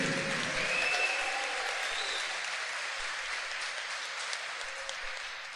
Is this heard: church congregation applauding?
yes